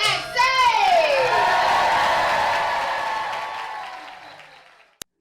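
An excited crowd at a show aboard the Disney Treasure cruise ship erupts in cheers, whoops and applause, with children's voices mixed in, swelling quickly and then slowly fading away.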